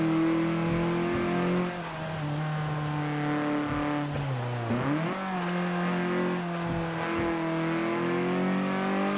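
Ford Focus RS hot hatch engine in the Forza Motorsport 7 racing game, revving hard with rising pitch through gear changes, a brief dip and shift midway, loud and sustained without talk.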